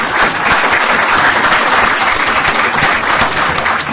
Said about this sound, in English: So now we can give Ruti a well-deserved round of applause.